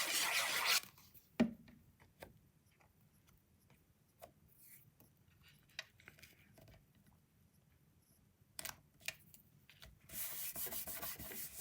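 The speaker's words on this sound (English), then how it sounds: "Give that a good rub" Short scratchy strokes come from a card being rubbed firmly by hand during card making, a few quick passes near the start and end with quieter fiddling sounds in between, close and fairly soft.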